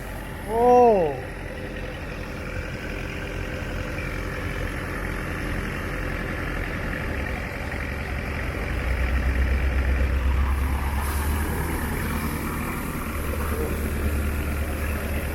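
A 10-inch or 8-inch water pump engine idles lightly, not revved much, a constant low rumble that deepens slightly partway through, with a brief voice near the start.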